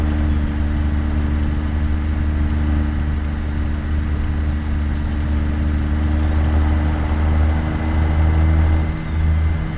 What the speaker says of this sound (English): the turbo spool on this is just crazy